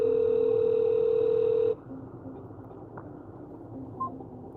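A telephone call going unanswered gives a steady, loud electronic ring tone that cuts off abruptly partway through, leaving quiet background hum with a faint beep afterward.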